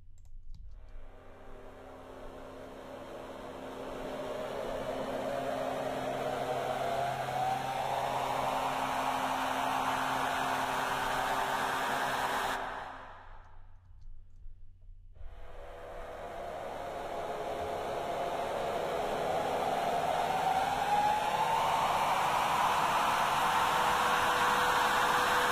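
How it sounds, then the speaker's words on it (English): A nuclear riser synth patch built with the Thor synthesizer in Reason 7.1: a noisy, hissing rise that sweeps upward and swells in loudness, cuts out briefly midway, then climbs again toward a bright peak, with no talking. "So have a listen to my nuclear riser."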